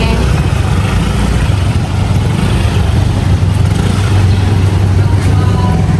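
A motorcycle being brought in at a crab delivery stop holds a steady, loud low engine rumble from start to finish, with a faint voice briefly in the background.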